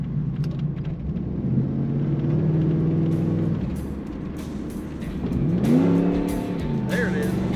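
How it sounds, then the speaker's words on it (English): Throaty exhaust of a 1989 Pontiac Firebird Formula heard from inside while driving with a window down, a steady low rumble that swells as the engine revs, with a voice talking over it. "Put a window down, maybe you can hear the throaty exhaust just a little bit better."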